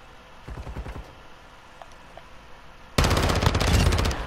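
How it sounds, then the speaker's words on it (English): Rapid bursts of rifle fire in Modern Warfare II ranked Search and Destroy, a short volley early on, a brief lull, then a loud sustained stream of close shots to the end. "I bet he didn't expect me to keep shooting."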